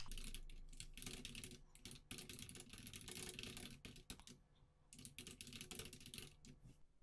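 Rapid, irregular clicking of keys on a computer keyboard, close and steady, with a couple of short pauses between bursts.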